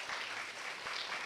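Steady applause from a crowd, soft and somewhat distant, filling the whole short stretch with no voices over it.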